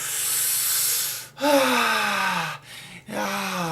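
A person takes a long, airy breath in, then lets out drawn-out voiced sighs that fall in pitch, with a short pause between them. Each sound is close and clear, with no background noise.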